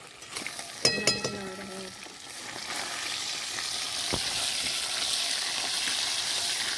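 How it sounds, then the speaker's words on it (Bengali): Fresh pond tilapia fries in hot oil. A few sharp clatters and crackles at first give way to a loud, steady, close sizzle that continues to the end. "মাছ ভাজা হয়ে গেছে"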